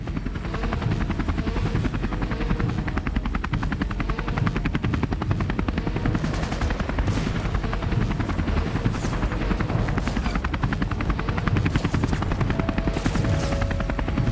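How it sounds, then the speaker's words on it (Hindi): An LCH military combat helicopter flies overhead with a loud, constant rotor thump and turbine roar that fills the scene without letup. "इस LCH की खासियत यह है कि ये लड़ाकू हेलीकॉप्टर रात में काम कर सकता है।"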